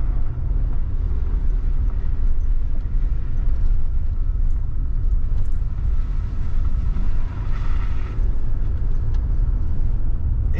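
A truck pulling a travel trailer grinds through mud on a remote northwest Nevada road. A continuous heavy rumble of engine and tires carries on throughout, with some rattling and scraping from the rig.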